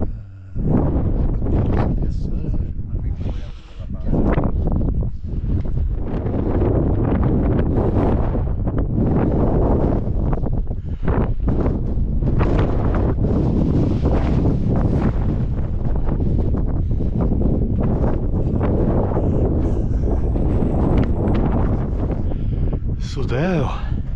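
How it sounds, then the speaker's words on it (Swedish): Strong wind on a volcano hike in the Andes, Ecuador, roars and buffets the microphone almost continuously, with a voice speaking intermittently underneath the gusts. "Det blåser inte lika mycket."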